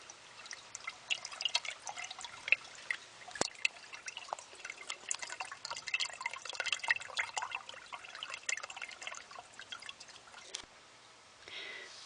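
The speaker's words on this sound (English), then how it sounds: "I'm hearing gurgly sounds." Water gurgles and trickles through a pipe beneath a basement floor during heavy rainfall, a steady busy stream of small drips and splashes with one sharp knock, fairly faint and close, with no voices.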